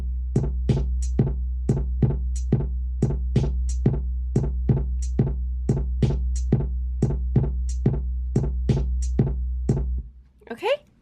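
A basic programmed drum beat in a 3+3+2 groove, with snare hits and hi-hat over a steady low boom, repeating evenly and loud for about ten seconds before cutting off.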